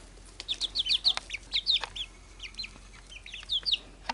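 Chickens clucking softly at a distance, a scattered series of short calls over quiet outdoor background noise.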